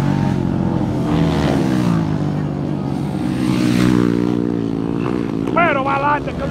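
A race car engine held at over-revved, high RPM drones loudly and steadily with a strained harmonic whine, while a commentator's voice runs over it throughout.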